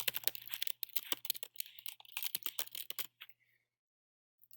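Rapid clicking keystrokes on a computer keyboard, entering text in NMR spectra software, come in a dense burst for about three seconds and then stop, with a faint steady hum underneath.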